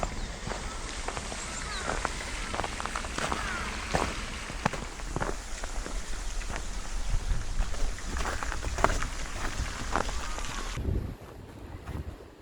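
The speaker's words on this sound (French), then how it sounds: "Il neige et il y a du vent." Wind gusts during snowfall outdoors in Japan, a constant rushing roar that buffets the microphone with crackling bursts, then drops off abruptly near the end.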